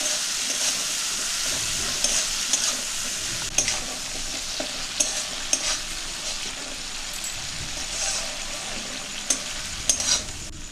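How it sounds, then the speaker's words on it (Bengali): A spatula stirs a vegetarian fish-style curry in a pan after two spoons of sour yogurt go in, giving a steady close sizzle with soft scraping and occasional small clicks throughout, no talking. "টক দই দিয়ে দেবো 2 চামচের মতো। ভালো করে নেড়ে নিচ্ছি।"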